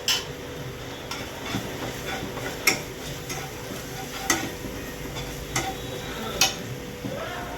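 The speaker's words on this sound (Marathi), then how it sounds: "त्यामध्ये आपण अद्रक लसूण परतून घेऊया" Ginger and garlic sautéing in a hot pan, a continuous crackling sizzle punctuated by sharp, irregular taps and scrapes of a spoon stirring against the pan, no talking.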